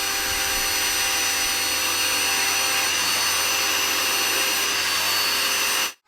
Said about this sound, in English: when you squeeze this, you got soap coming out